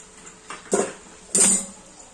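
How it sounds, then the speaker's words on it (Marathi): A lid set over a pan of bitter gourd curry cooking on low heat, two short metallic clinks close by with quiet in between. "आता मी पूर्ण छान मिक्स करून झाकून ठेवते, स्लो गॅसवर"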